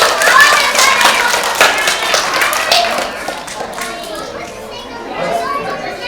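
Children's applause follows a group of volunteers at a live animal show, a lively patter of many small hands clapping up close with excited young voices chattering over it, fading slightly toward the end.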